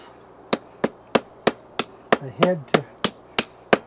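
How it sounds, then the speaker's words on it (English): A ball peen hammer strikes metal during survival knife making, landing about a dozen sharp, evenly spaced ringing blows close by, with a short spoken phrase partway through. "we have a hammer that's rounded on the back. That's called a ball peen hammer."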